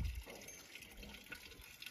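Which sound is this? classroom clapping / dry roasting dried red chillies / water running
water running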